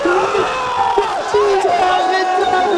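Crowd at a beach volleyball final in Montpellier cheering loudly and continuously, with whoops and shouted voices blending into a dense roar.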